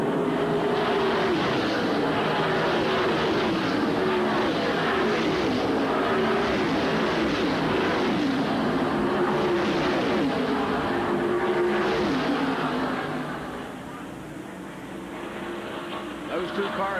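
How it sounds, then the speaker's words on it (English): ARCA stock cars roar out of turn four at Atlanta in a 1990 500-kilometre race, a broad, continuous engine drone under a commentator's voice, fading somewhat near the end. "Those two cars now pulling away to the third place car."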